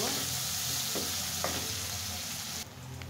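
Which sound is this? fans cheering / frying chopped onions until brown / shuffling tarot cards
frying chopped onions until brown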